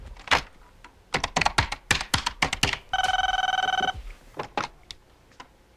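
A telephone rings once in a 1987 home setting, a bright electronic trill lasting about a second amid clicking and thumping handling noises before and after.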